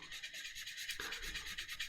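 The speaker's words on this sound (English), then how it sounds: "I'll go in with this end of the sanding stick and I'll do little circles" A sanding stick rubs in small circles on a Warhammer miniature, giving a soft, close, scratchy rasp that pulses quickly and evenly with no talk.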